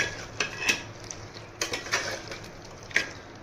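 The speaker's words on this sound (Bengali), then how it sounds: "দিয়ে ভালো করে মাংসের সঙ্গে মিশিয়ে দেবো।" Fried onions being mixed into mutton in a pot for mutton korma, heard as scattered clinks and scrapes of a spoon against the vessel, close and moderately quiet, with no talking.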